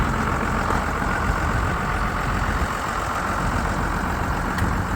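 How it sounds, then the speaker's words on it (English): A large tractor engine idles steadily at close range, a low continuous rumble with no speech. "Here's the big man with the big tractor."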